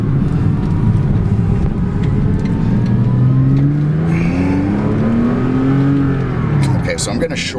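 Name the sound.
2006 Porsche Cayman S engine revving while driving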